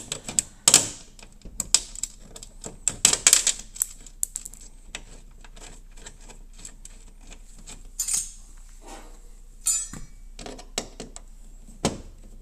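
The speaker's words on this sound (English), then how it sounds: "we just use some screws and attach this on here" Metal screws and washers clink and rattle as a passenger side mirror is fitted to a '77 Ford LTD, a series of sharp, close handling clicks and taps in an otherwise quiet space with no talk.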